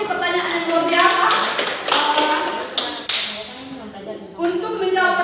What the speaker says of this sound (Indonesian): beri aplaus untuk Nunci, itu pertanyaan yang luar biasa